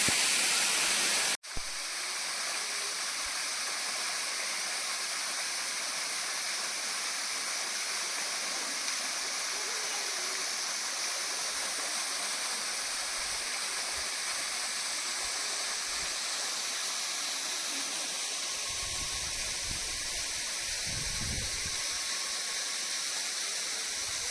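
The Ambrushi waterfall at Amsari pours continuously, a steady, dense roar of rushing water close by, with faint low rumbles near the end.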